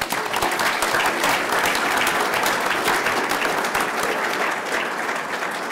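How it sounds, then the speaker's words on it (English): An audience at an expert panel event in Brevard, North Carolina claps in sustained, dense applause that stays loud and even throughout, a crowd of many hands with no voices standing out. "I think they deserve a round of applause"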